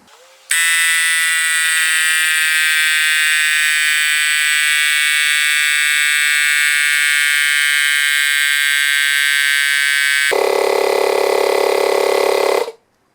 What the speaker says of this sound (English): Hopefully it won't take long to pump that up. We will crank this up to 50 psi.